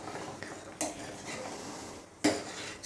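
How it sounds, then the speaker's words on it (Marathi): Milk thickening with almond and cashew paste is stirred in a pan for basundi, heard as faint soft scraping with two sharper metallic clinks of a spoon against the pan, quiet and close. "ती बदाम आणि आपण जी काजूची पेस्ट बनवून टाकलेली आहे छानपैकी अशी हलवून घ्या."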